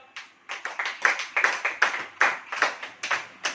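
A church congregation claps together in a steady rhythm, a string of about fourteen sharp, evenly spaced claps that are loud and close, with no talking over them.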